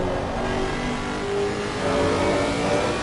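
McLaren GT3 race car in a video game at Spa, its mid-pitched engine droning steadily and loudly throughout with slight rises in revs, no voices over it.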